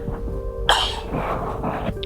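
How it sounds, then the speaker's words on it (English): A man clears his throat once with a sharp, rasping burst and a rougher follow-up, close to the microphone, heard on its own against a faint background hum. "I had to clear my throat."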